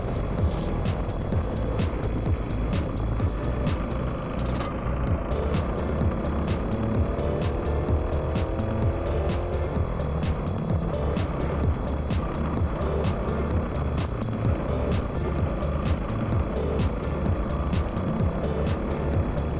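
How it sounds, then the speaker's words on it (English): Racing go-karts roar through the final round of a race, their engines a loud, continuous, buzzing drone from onboard that rises and falls with throttle as the kart overtakes and chases another kart into a hairpin. "And now there's a new kart in front of us, although we overtook Ollie, so that's good."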